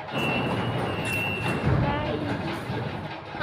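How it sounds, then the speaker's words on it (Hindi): Interior ride aboard the Delhi Airport Express Line metro train, a steady rumble and hiss of the moving carriage with faint rail clatter throughout, a brief swell midway, no talk. "मैं बैठ गई हूँ एयरपोर्ट वाली मेट्रो में"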